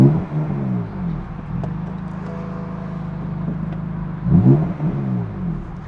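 A 2015 BMW M4 engine with its exhaust closed, heard from inside the car, revs up and holds a steady droning pitch for a couple of seconds, then drops back to idle with a final blip.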